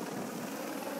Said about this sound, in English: it will be transported underneath this same helicopter after Keith dropped us off